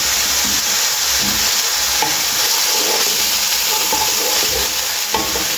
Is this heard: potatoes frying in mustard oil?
yes